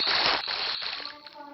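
Water splashes and sloshes briefly in a block-building video game inside a Batman cave build. The burst is short and moderately loud, then fades quickly.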